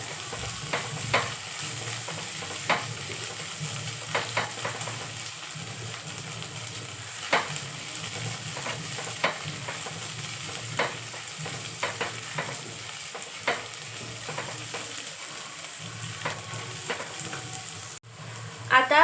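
Crushed garlic and ginger fry in oil for a tempering in a pressure-cooker pav bhaji, giving a continuous close sizzle with frequent small ticks and scrapes of a stirring spoon, steady throughout without speech.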